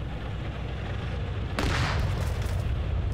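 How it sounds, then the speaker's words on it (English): Arma 3 tank main cannon firing during a PvP battle: a single loud, sudden boom cuts through steady rumbling battlefield noise and then fades into a rolling echo. "I think that was actually the main cannon"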